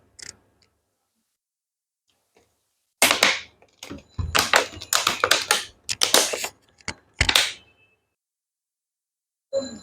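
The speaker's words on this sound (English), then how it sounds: "Please don't crinkle the bottle." A plastic bottle is crinkled in bursts of sharp crackling, several clustered crunches in the middle then a couple of isolated crackles, close and fairly loud with quiet gaps between.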